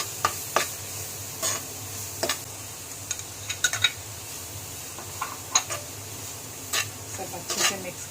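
Carrots and other vegetables sizzle softly in melted butter as a spoon stirs and taps against the pan in irregular clicks and scrapes, close by, with a faint voice now and then.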